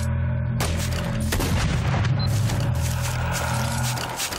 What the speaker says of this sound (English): Just hearing gunshots, them shouting things at me.